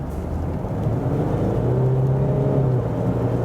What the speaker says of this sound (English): I can show you some more acceleration in the sport mode.